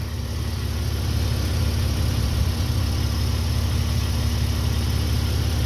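Car engine fitted with an MBRP looped catback exhaust, idling steadily with a deep, even droning rumble and faint vibration, close and constant with no voices.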